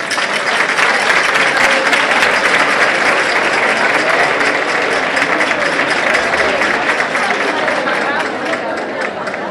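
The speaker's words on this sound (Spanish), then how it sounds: "recibimos con un fuerte aplauso" Sustained, loud applause from a crowd at an outdoor Águedas women's festival gathering in Torrecilla de la Orden, dense clapping filling the whole stretch with faint crowd murmur underneath.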